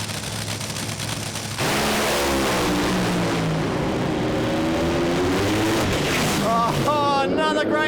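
Top Fuel dragsters race down the strip at Santo's Summer Thunder, bursting into a thunderous, sustained roar after a quieter start, with engine pitch sweeping upward near the end.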